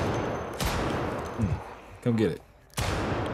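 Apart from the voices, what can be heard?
gunfire in video game Project Zomboid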